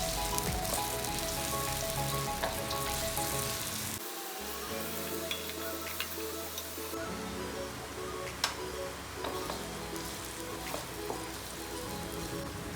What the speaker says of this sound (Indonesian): dengan minyak yang sama saya goreng bawang merah